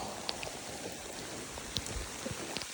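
Steady rain falls beside a river on the Appalachian Trail, an even close hiss with scattered drip ticks and small patters throughout.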